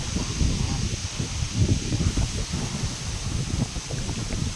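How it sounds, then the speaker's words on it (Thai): Strong wind gusts through a durian orchard outdoors, producing a steady low buffeting rumble against the microphone with faint rustling leaves, continuous and loud throughout. "ลมแรงนี่"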